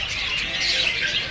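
A fantail bird (burung kipas) calls at a Balinese bird market, a steady bright chirping that carries throughout amid busy, hissy market ambience.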